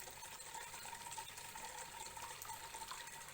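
Tap water runs steadily while hands are rinsed at a sink during a WHO handwashing demonstration, a soft continuous hiss and splash, faint and unbroken throughout.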